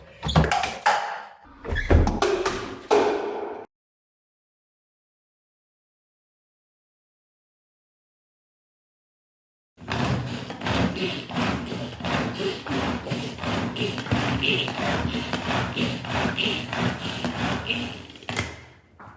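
Rapid rhythmic clattering of a pull-cord chopper chopping onions, a short burst, a long silence, then a sustained run of fast repeated chopping thumps up close.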